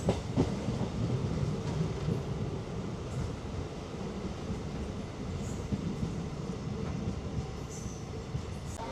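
A MEMU passenger train runs into Palani on the Coimbatore–Dindigul line, a steady low rumble of wheels and carriages heard from inside, with faint rhythmic clatter throughout.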